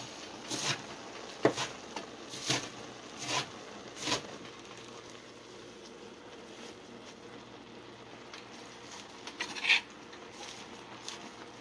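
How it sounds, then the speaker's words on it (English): A knife chops greens for vegan saag, sharp spaced thuds on a board, about eight strikes in an uneven rhythm, close and clear against a low steady background. "Chop it up. Chop all your greens."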